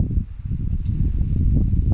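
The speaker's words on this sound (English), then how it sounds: "Very windy." Steady low wind rumble buffets the microphone for the whole stretch, swelling slightly toward the end, with no voices.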